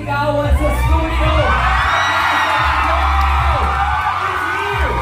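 A studio audience screams, whoops and cheers loudly and continuously at a Filipino TV show as actor Richard Gutierrez is introduced, with a dense crowd roar and no clear speech.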